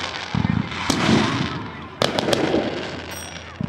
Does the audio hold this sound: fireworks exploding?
yes